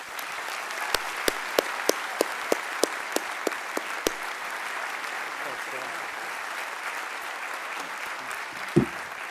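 An audience at a university graduate recognition ceremony applauds as the commencement speaker is welcomed, steady clapping beginning with a few sharp individual claps and then settling into sustained applause.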